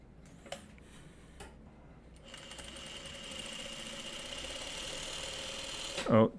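A sewing machine stitches a Farmer's Wife quilt block, a steady mechanical whir building from about two seconds and running on fairly close. It ends in a louder, sharp clatter as the thread breaks.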